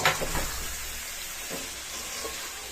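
Beef frying with cubed onions, garlic and capsicum gives a steady, even sizzling hiss that carries on throughout, moderately loud and close, with no voices.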